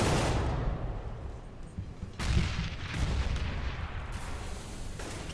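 Gunfire in the CS:GO shooter game, a dense loud barrage of booming shots that starts at once, dips briefly and surges again midway, keeping a heavy rumbling texture throughout with no voices.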